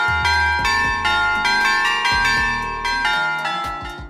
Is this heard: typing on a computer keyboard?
no